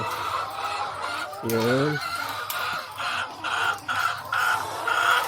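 Layer chickens clucking in a pen, a steady mix of near and distant hen calls with one louder drawn-out call partway through, over someone speaking briefly.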